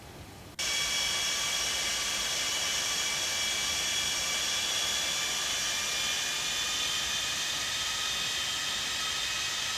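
In a flight simulator game, the engines of a taxiing Boeing 747 Classic start with a sudden onset into a steady, loud whining hiss with high tonal whistles that holds evenly throughout.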